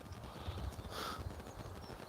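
A small pony walks nearby on an outdoor morning walk, its hooves giving soft, irregular clip-clops over low background noise, fairly close but muted.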